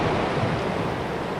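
A California river in high, fast, cold spring flow rushes steadily as a dense, continuous roar of broadband water noise, close and loud with no letup and no voices.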